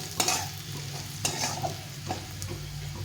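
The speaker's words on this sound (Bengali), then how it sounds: "এটা দিয়ে পেঁয়াজটাকে ভালো করে কষিয়ে নেব।" Onion frying in a pan with chili powder and spices for a tengra fish curry, a low steady sizzle broken by a few sharp spatula scrapes and stirs, close and fairly quiet.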